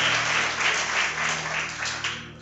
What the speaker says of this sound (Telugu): దేవునికి చప్పట్లు కొట్టండి